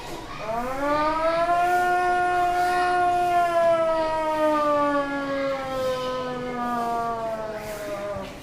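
A voice imitates a medical college siren wailing, a single long, sustained tone that rises slightly and then slowly falls, steady and loud.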